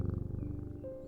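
A pet cat in the game Strange Antiquities purrs when petted, giving a soft, steady, rumbling low purr that pulses quickly for about a second.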